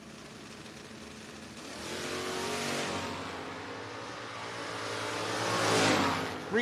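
Chevrolet Camaro drag racing at a no-box 660 shootout, with engines revving and roaring as cars launch and pass, the sound swelling from moderate to loud and peaking near the end.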